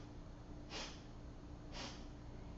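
Two forceful nasal exhalations during a breathing exercise, sharp close puffs of air through the nose about a second apart against quiet background hiss.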